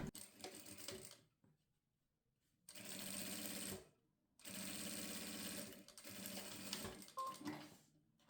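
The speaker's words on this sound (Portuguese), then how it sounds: "eu venho pela parte de trás, coloco ele bem alinhado e faço uma costura reta" A sewing machine runs in three bursts of steady stitching, stopping briefly between runs, as it sews a straight seam attaching bias tape to the back of a toiletry pouch; close and fairly quiet, with no talking.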